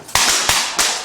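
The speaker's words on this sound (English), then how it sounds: "You're responding to unknown trouble and you hear gunshots." Three sharp, loud bangs fire in quick succession, each a sudden crack with a short decay, evenly spaced about a third of a second apart.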